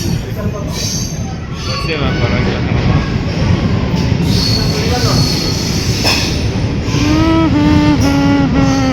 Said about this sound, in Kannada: ಏನು ಇವತ್ತು ಸೌಂಡ್ ಇಲ್ದಂಗೆ ಬರ್ತೈತೆ ಟ್ರೈನ್ ಇವತ್ತು